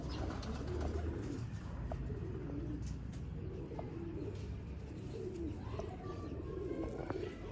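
Golden pigeons cooing in repeated soft, low rolling phrases, close and moderately loud, with faint background voices and noise.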